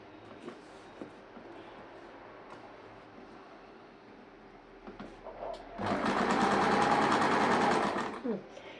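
A sewing machine stitching a churidar slit, starting with a few faint taps and then running in a loud, steady whir for about three seconds before stopping.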